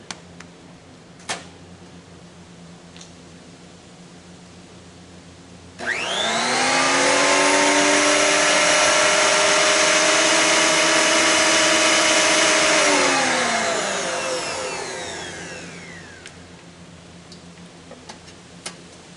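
A new electric planer's motor starts with a rising whine, holds a loud, steady high-pitched spin for several seconds, then winds down smoothly in a workshop. Soft ticks come before it, and nobody talks.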